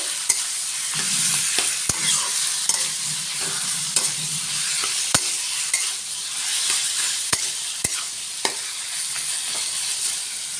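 Elephant foot yam stalks sautéed with a hilsa fish head, a steady oily sizzle broken by repeated sharp clicks and taps of a spatula stirring against the pan, near and continuous.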